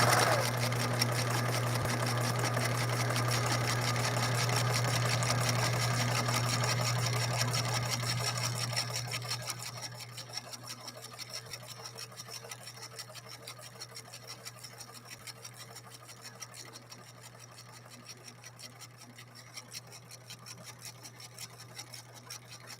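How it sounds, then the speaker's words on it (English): A Singer 6233 sewing machine stitches continuously at close range, a steady rapid mechanical whir and needle chatter that runs loud for about nine seconds, then carries on at a lighter, quieter clatter. "Well, I didn't sew straight"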